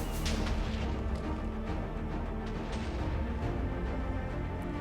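In modded Minecraft, a turbo laser fireball blasts against stone, a dense stream of crackling, booming explosion bursts that keeps going without a break. Fairly loud, with no voices.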